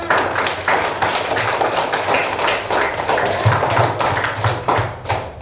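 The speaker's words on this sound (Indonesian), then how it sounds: "berikan aplaus untuk Yona" A classroom group claps for a student, Yona, with dense, steady applause running the whole time at close range, no voices above it.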